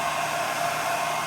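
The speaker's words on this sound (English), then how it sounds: "run this hair dryer" A hair dryer powered through a 3000-watt Chinese power inverter in a truck blows as a steady, loud broadband whoosh, continuous and unchanging throughout with no voices.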